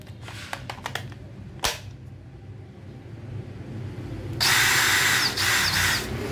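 A DeWalt DCD709 13 mm 18V XR cordless drill, first a few faint clicks and a sharp tap, then the motor whirring up loud and steady for the last two seconds, close by with no talking.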